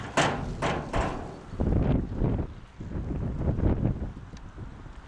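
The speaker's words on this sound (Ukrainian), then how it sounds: "Вітер сьогодні східний." Wind buffets the microphone in heavy, uneven gusts, rumbling low and loud with short sharp knocks near the start.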